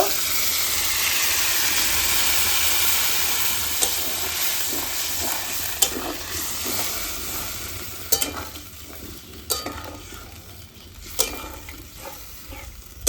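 A spiced curry with taro stolons bubbles in a pot before fish is added, starting as a steady steamy hiss that thins into scattered, crisp pops and spits over several seconds, close and fairly loud.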